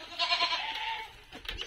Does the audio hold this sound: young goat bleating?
yes